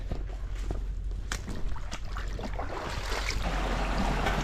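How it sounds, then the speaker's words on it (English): Creek water rushing over small rapids after flooding rain, a steady broadband wash that builds slightly louder toward the end, with occasional splashes and brief knocks near the start. "I've always really loved this little section right here because of the beautiful flowing water and these little rapids"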